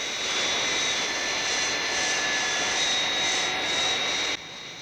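A descending aircraft in the Thunderbirds puppet series gives off a steady, loud engine roar with a high whine that holds evenly and then drops slightly in level near the end.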